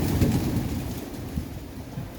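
Pigeons coo quietly in the distance over a low, steady outdoor rumble, with no voices present.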